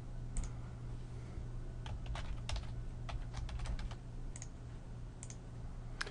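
Typing on a computer keyboard while entering terms and definitions into a study set, with irregular bursts of clicky keystrokes over a steady low hum, fairly close and moderately quiet.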